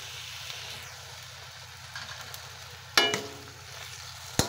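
Kangkong leaves and tender stems frying in a pan for adobong kangkong, a steady sizzle with stirring, a sharp scrape and clatter near the three-second mark and another brief knock at the end.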